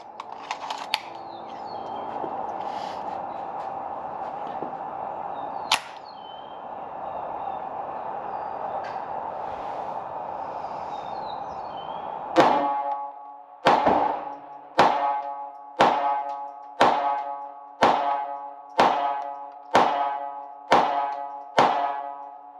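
A Ruger Mark IV Tactical pistol fires CCI Mini Mag rounds at an outdoor range, each shot a sharp loud crack. Around ten shots come in a steady, evenly spaced string after a stretch of background noise.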